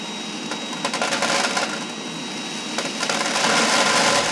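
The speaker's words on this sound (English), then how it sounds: "And with each one, I'll increase the amount of suction as it goes along." Zig-zag seed cleaner drawing black oil sunflower seeds through by suction, a steady loud rushing airflow overlaid with dense rattling and pattering of seeds, swelling a little toward the end with no talking.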